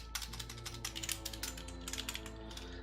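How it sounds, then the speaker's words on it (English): Rapid typing on a computer keyboard, with clusters of close, crisp key clicks running steadily through the whole stretch and no talking over it. "I like the sound of you typing on the keyboard"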